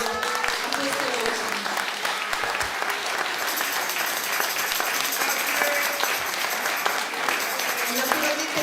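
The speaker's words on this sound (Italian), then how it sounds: "vorrei un grandissimo applauso a queste voci" Audience at an operatic arias concert in Jesolo clapping for the singers: dense, sustained applause filling the hall, with a voice briefly heard over it early on.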